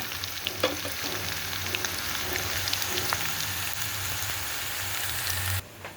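Raw banana pieces fry in a pan with chilli powder, giving a steady, close sizzle with crackling pops throughout that cuts off abruptly near the end.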